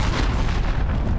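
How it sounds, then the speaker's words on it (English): A cruise missile blast in the video game Modern Warfare, a loud, close, rumbling boom that fills the moment with dense low roar, no voices. "Enemy cruise missile incoming"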